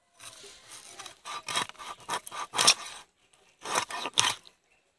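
Fish being cut by hand in a home kitchen, a series of close, short scraping and slicing strokes in quick irregular bursts, with a brief pause before a final few strokes.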